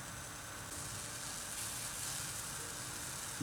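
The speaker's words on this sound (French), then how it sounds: "le lait est en train de frémir" Milk, in a vegan chocolate recipe, simmers in a pan with a steady, soft hiss and faint sizzle that holds evenly throughout, with no voices.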